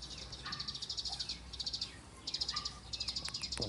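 Small birds, likely sparrows, chirp in quick repeated bursts at a trapping site, a steady twittering chorus at moderate distance with faint insect-like buzzing beneath.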